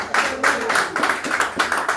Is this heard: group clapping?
yes